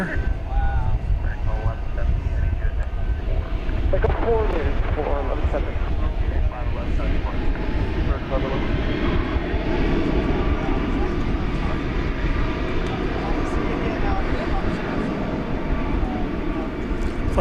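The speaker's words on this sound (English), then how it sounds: "777-200 off to LAX." An American Airlines Boeing 777-200 departs DFW for LAX, its jet engines a steady, loud broadband roar that holds for the whole stretch, with people talking over it.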